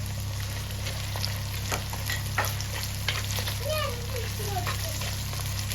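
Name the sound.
green chilies frying and being stirred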